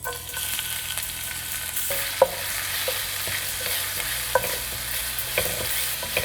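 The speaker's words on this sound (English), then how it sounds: "I'll be adding my chopped garlic and green chilies" Steady sizzling of chopped garlic and green chilies frying in hot oil, with occasional clinks and scrapes of stirring.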